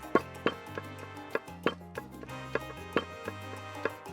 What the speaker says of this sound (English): The traditional tool for pounding the garlic is a mortar and pestle, not a food processor.